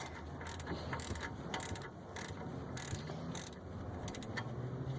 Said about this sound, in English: Still loosening the bolt.